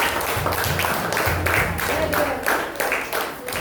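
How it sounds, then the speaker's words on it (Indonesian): Classroom applause, with students clapping in several uneven bursts that rise and fall over a few seconds, moderately loud, with voices mixed in. "coba kasih tepuk tangan dulu untuk teman kita yang terbaik."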